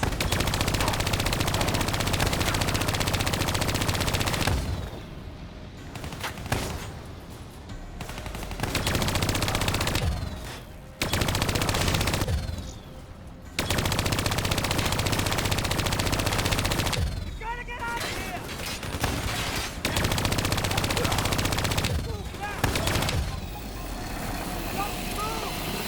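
Sustained automatic gunfire fills a Call of Duty Black Ops 3 battle, loud dense bursts broken by brief pauses, with explosions and game noise layered in.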